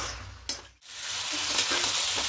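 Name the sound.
rice frying and being stirred in a pan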